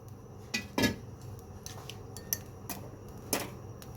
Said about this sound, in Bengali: এর মধ্যে সামান্য একটু লবণ দিয়ে এগুলোকে ভালো করে একটু ফেটিয়ে নেব